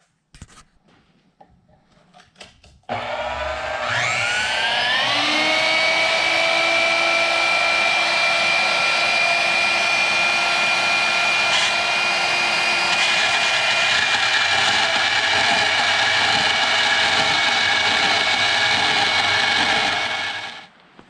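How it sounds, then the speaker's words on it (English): Band saw mounted on a Swag Off Road table cutting metal, a loud continuous motor hum with a high ringing blade tone that holds steady for about eighteen seconds after a few clicks. "run some metal through there and see what we got"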